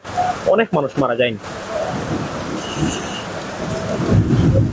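Thunder rumbling during a rainy storm in Sylhet, a low rolling distant boom following a short spoken phrase, with steady rain hiss underneath and a rise in rumble toward the end.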